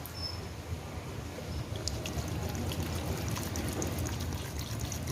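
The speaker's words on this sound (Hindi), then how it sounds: "डेढ़ लीटर के करीब तकरीबन इसमें पानी ऐड होगा" Water is poured into a pot of black chickpea curry with turmeric and red chili, a steady trickling, splashing stream that grows slightly fuller midway and continues evenly, close and without talk.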